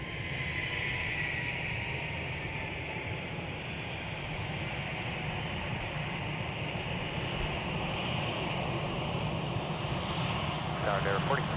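A Delta airliner, flight 2057, taxis on Taxiway Whiskey at Minneapolis–St. Paul airport, its engines giving a steady, loud whining roar throughout, with a person talking over it.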